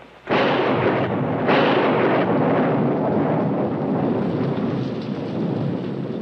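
Heavy thunderstorm at night near a river: deep rolling thunder crashes twice in quick succession over a constant loud hiss of pouring rain, with no voices.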